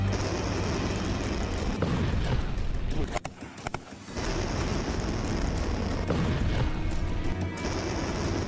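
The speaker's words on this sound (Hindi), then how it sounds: "वही धमाके का शोर" A missile strike explosion during the Russia-Ukraine war in Kherson, heard as a sustained, loud, roaring blast and rumble that briefly drops out before the heavy roar resumes.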